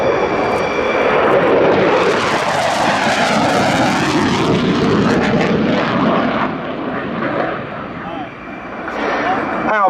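A jet aircraft makes a high-speed pass at 100 feet at about 580 knots during the Yeovilton Air Day airshow, a loud roaring rush that builds, peaks and fades over several seconds, with a commentator talking over it.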